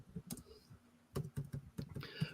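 Typing on a computer keyboard comes through as quiet, close clicks in short irregular bursts, a few keystrokes at a time with brief pauses between, and no voices.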